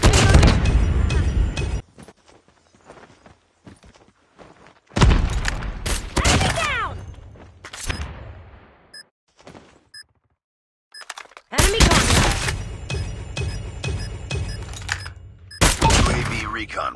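Bomb explosions and gunfire from the shooter game DLQ 33 arrive in loud booming bursts and rapid volleys, separated by quieter stretches with faint distant shots.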